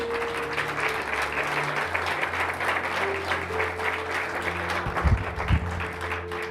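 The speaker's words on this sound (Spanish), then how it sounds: "Dale un aplauso al Señor." A church congregation breaks into sustained applause, a dense steady clatter of many hands lasting several seconds over a low held musical drone and organ-like tones.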